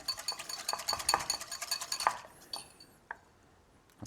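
A verjus dressing being mixed in a bowl brings rapid, bright clinks and taps of a utensil against the dish for about two seconds, then a few sparse clicks before it goes quiet.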